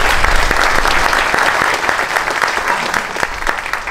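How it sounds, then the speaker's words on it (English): Crowd applause at the ribbon cutting for the Charles J Muth Museum at Hinchliffe Stadium: loud, close, continuous clapping with a few sharper individual claps standing out, and no talk over it. "So they too should be given another round of applause."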